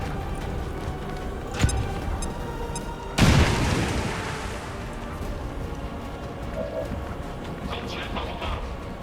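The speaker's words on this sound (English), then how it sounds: "Grenade out." A grenade explodes in the video game XCOM 2: a sharp, loud burst with a long rumbling decay, preceded by a smaller pop and set over a steady game soundscape.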